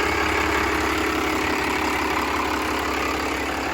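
Cummins 5.9L BTA marine diesel engine idling after an oil change, a loud, steady low rumble with a fine knocking texture and no voices.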